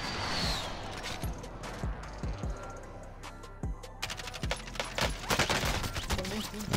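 Bursts of automatic gunfire in Call of Duty Warzone, including a Bruen LMG, rattle in irregular volleys over several seconds, close and fairly loud, with scattered single shots between them.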